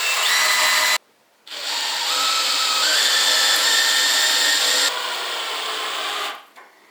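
A power drill drives screws into a small block of wood on a garden leveling device, whirring loudly and steadily for several seconds, pausing briefly, then rising in pitch as the screw bites before winding down.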